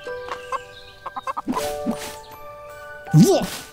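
A chicken in the farming game Everdream Valley gives short clucks among chiming game effects and small tinkles, with a player talking over it.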